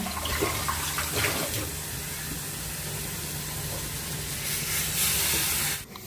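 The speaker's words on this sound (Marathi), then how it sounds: "मसाला परतल्यानंतर आहे ना मी लगेच पाणी टाकलं" Water poured into fried masala in a pan, heard as a steady close hiss and splashing rush that runs throughout before cutting off sharply near the end.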